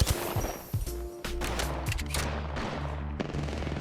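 Rapid automatic gunfire in the Apex Legends video game during a ranked arena match, dense overlapping bursts with layered weapon reports and impact sounds, loud and continuous throughout.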